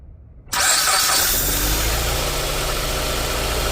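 A car engine with an electronic throttle control fault cranks and catches after half a second of quiet, then settles into a loud, steady idle.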